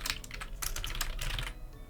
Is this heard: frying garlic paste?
no